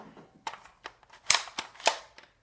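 A toy cap gun fires several times, sharp close snaps spaced irregularly with small mechanical clicks between them and no talk.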